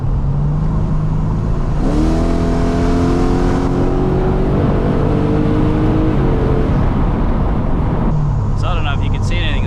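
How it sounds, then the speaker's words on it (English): A Holden VL Calais with an LS1 V8 engine accelerates hard on the road from inside the cabin, its engine note rising steadily under a loud, constant road and wind roar. "I'm just going to take it for a drive and give it a bit of a stab"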